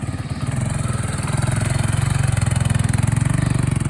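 A 1986 Honda ATC200X three-wheeler's single-cylinder engine runs with a fast, even putter close by, its rapid pulsing steadying and growing slightly louder after a rough first half second.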